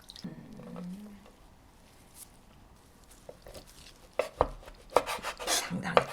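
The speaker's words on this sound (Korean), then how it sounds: "진미채를 건져서 적당한 크기로 잘라주세요" Soaked dried shredded squid being cut into pieces, near and quiet at first, then a few sharp snips and squishy cuts cluster toward the end.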